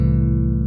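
Inverted double stops ring out on a bass guitar, a single sustained two-note chord that holds steadily and decays slightly over a short moment, clear and alone with no talking.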